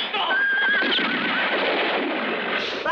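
Horses whinny loudly amid a dense, continuous clatter of hooves in a Wild West film scene, with a high neigh rising near the start over a steady, crowded wash of galloping noise.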